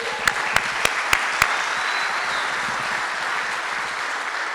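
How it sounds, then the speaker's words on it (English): A crowd at a hall of fame ceremony applauds steadily throughout, and a few sharp, evenly spaced knocks or claps stand out near the start. "they need a round of applause as well"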